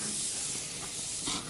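Shrimp sizzle on a barbecue grill, a close, steady hiss of cooking that swells briefly near the end.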